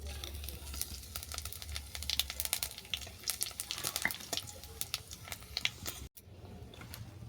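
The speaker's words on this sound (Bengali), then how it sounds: "দেখো জিরে শুকনো লঙ্কাও ভাজা হয়ে গেছে" Cumin seeds and dried red chilies fry in hot oil in a pan, making a soft, continuous crackle with scattered sharp pops and ticks. It is close but faint, with no speech.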